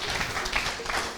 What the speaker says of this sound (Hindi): हमारे ऑल अदर स्पीकर के लिए भी जोरदार तालियां हो जाए